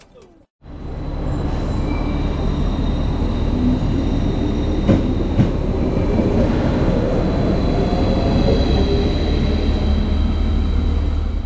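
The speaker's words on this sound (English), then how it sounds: "so I could watch my train leave" A train departing a station on the Ruhr-Sieg Railway in Germany rumbles steadily close by, a low continuous roar with faint metallic squeals and clatter, starting abruptly and holding loud throughout.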